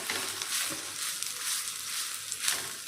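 Wheat adai batter fries in hot oil with a steady, bright sizzle that holds throughout, rising slightly in spots with faint crackles and no voices over it.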